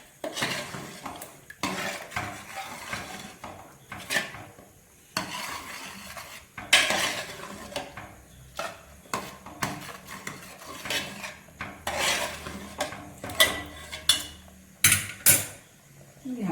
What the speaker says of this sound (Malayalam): എന്നിട്ട് ഇതെല്ലാം കൂടി നന്നായിട്ട് ഇളക്കി കൊടുക്കുക.